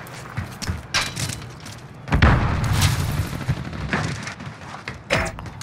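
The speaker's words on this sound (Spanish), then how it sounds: "¡Granada va!" A grenade goes off in Call of Duty: Modern Warfare during online play, a heavy boom amid scattered gunfire and game effects, loud and close with rumbling aftermath.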